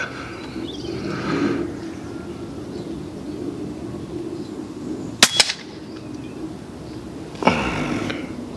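Two sharp airgun shots crack out during scope zeroing, one near the middle followed by a brief ringing echo and another a couple of seconds later, over a low outdoor background.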